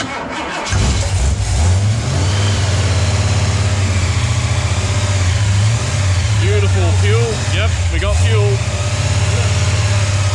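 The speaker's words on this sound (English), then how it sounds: "When you're turning an engine on for the first time, you don't want to let it idle." A new 351 Cleveland V8 engine cranks and catches on its first start, then holds a loud steady drone that rises in bursts of revving, with someone talking over it.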